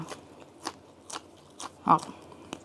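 Crispy pork cracklings eaten with Thai chili paste crunch in a slow series of close bites, one louder crunch standing out among softer chews with a faint voice beneath.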